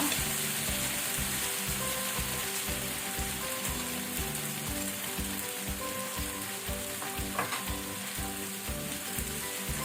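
Mashed vegetables fry in a pan for pav bhaji with a steady sizzle, while a spoon scrapes through them in a regular stirring rhythm, close and continuous with no talking.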